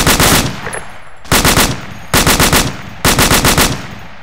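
Gunfire in a military shooter video game: four loud, close bursts of rapid automatic shots, evenly spaced with brief pauses between them.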